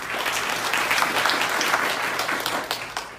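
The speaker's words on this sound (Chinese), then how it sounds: "来给他掌声一下" An audience at a company training session claps in a dense, sustained round of applause that stays lively throughout, with a faint murmur of voices underneath.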